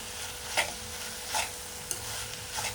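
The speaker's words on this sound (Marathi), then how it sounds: "तर मिक्स करून घ्यायची." Snake gourd curry with dried fish being stirred in a pan: a continuous sizzle with three or four soft scraping strokes of a spoon, close by and with no talking.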